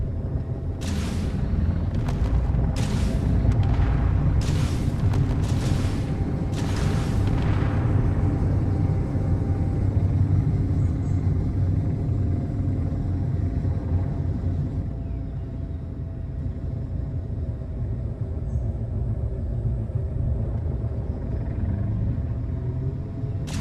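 Explosions from strafing fire in Space Engineers, a series of sharp bursts in quick succession early on, then a loud, sustained low rumble of destruction rolling on alone.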